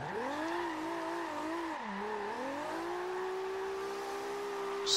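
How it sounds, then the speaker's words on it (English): Toyota Supra tires squealing in a long, loud drift in Forza Horizon 2, the wailing pitch dipping and rising over a revving engine, then holding steady. "Straight up burning fucking tyres"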